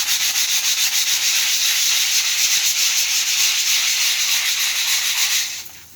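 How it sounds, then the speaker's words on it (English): Steady abrasive rubbing of sanding on a hard cement plaster surface of a ferrocement gourd, a day after application, continuous and close, with a rhythmic back-and-forth pulse, stopping near the end. "so now we're sanding it down the next day"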